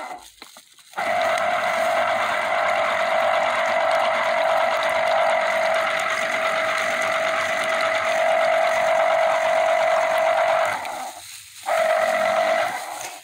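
A Touch 80-watt electric citrus juicer runs on oranges with a steady, close whirring motor hum. It cuts out for about a second near the end and then starts up again, with no talking.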